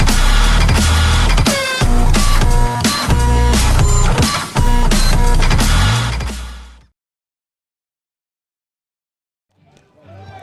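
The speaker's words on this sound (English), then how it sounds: "Printer, jam." A jammed printer running, loud close mechanical grinding and clattering in rapid repeated bursts for several seconds, then abrupt silence before a faint noise returns at the end.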